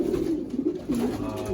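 Racing pigeons coo in a loft holding pure-line breeders, their low, throaty rolling calls repeating steadily and close, with several birds overlapping in a continuous murmur.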